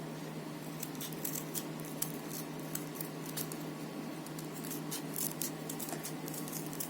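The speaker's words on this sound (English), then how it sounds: "Now go in and start cutting alternate sections of the web." Scissors snip through folded paper, cutting alternate sections of a kirigami spider web; quiet, irregular crisp clips repeat over a steady low background hum.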